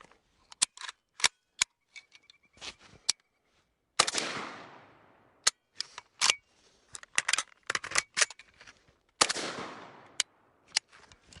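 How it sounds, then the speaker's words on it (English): Metallic clacks and snaps from an AK rifle during a bolt hold open magazine reload: sharp close clicks in quick bursts, a magazine seating with a rattling slide, then a second reload cycle with the same pattern, no voices. "now I'm going to set up for the bolt hold open reload"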